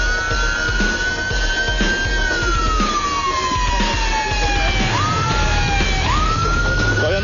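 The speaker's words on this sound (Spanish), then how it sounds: "su señal de inicio es la sirena" A game show siren wails as a start signal, rising and falling steadily in a loud continuous sweep over constant crowd and studio noise for the whole stretch, with several abrupt pitch jumps near the end.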